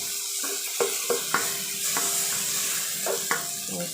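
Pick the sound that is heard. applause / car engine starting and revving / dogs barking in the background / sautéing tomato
sautéing tomato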